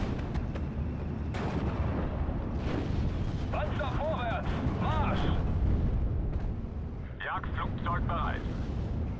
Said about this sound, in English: There goes a 6-pounder.